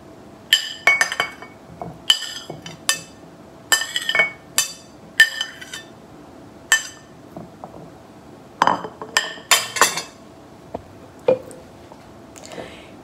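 Glass clinks and taps repeatedly in short irregular bursts as halo-halo ingredients such as saba banana, sweet potato and corn are moved into a small, overfilled glass, with occasional soft spoon sounds in a quiet home kitchen.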